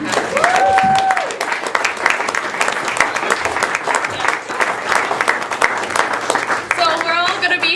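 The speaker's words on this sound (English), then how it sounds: "let's give a round of applause to all the seniors that we're having" At a school coffeehouse, an audience gives the seniors a round of applause: dense, steady clapping with a few whoops and cheers cutting through and some voices near the end.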